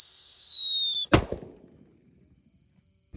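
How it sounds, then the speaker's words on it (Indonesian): A jumbo King Kong firecracker fuse hisses with a high whistle for about a second, then a single sharp, loud, close explosion cracks out, followed by brief rattling echoes and quiet. "ini mercon bledosnya paling banter, super kaget jumbo gambar King Kong"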